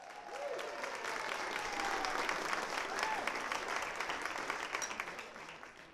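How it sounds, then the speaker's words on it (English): Sustained audience applause at a charity auction luncheon, a dense steady wash of clapping from a large crowd that swells and then eases slightly, with a voice faintly audible underneath. "Give her a big round of applause."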